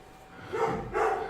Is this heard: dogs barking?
yes